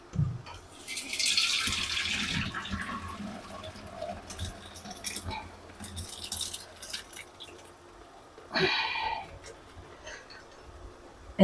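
Whey being squeezed from fresh homemade paneer through a muslin cloth, a close, steady trickle and splash of liquid draining with soft drips and patter, growing briefly louder near the end, with no talking.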